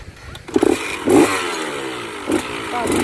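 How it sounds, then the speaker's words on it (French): A motorcycle engine revs and accelerates while a rider practises a wheelie, the throttle held open with a rising engine note under nearly continuous instructional speech. "Vous maintenez l'accélérateur comme ça et vous accélérez."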